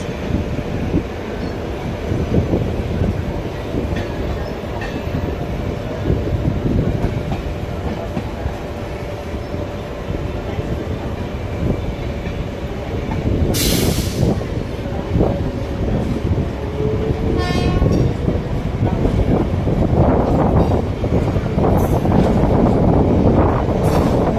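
The Kolkata–Gorakhpur Purbanchal Express passenger train rumbles steadily past up close, wheels clattering over the rails with rushing wind noise building toward the end.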